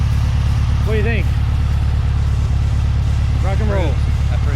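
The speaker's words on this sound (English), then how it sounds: "Took a motor, put it together, put it on the start stand, and started her up" A Volkswagen 1641cc engine runs steadily on a start stand, a loud, close, even idle with a constant throbbing drone, while people talk briefly over it.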